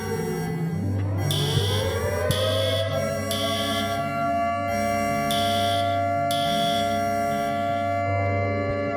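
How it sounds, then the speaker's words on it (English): A fire alarm in the Minecraft Create mod rings out in repeated bright electronic bursts over a steady droning hum of machinery, several pulses spaced irregularly, with no talking. "And then that's for the fire alarm."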